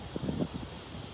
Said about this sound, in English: It's making wind.